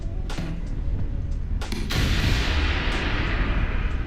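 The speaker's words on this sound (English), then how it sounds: "I spot the Buratino and fire." A TOW missile fired from a tank in a multicrew tank combat video game: a sharp launch boom over a low rumbling engine bed, followed by a sustained roaring whoosh that trails off.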